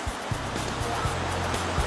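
Steady wash of flowing water, like surf or a rushing stream, fills the whole stretch at an even level, with low repeated thumps underneath and no talking.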